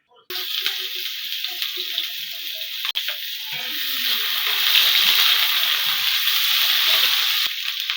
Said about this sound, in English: we are just stir frying our vegetables